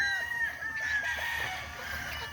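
Gamefowl rooster of the yellow-legged hatch crowing at a gamefowl festival, one long drawn-out crow with other chickens clucking behind it in a noisy hall.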